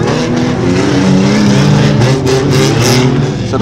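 Rear wheel drive dirt rod race cars at Stansted Raceway, a loud continuous roar of engines revving and passing at the start of a race, with rising and falling pitch.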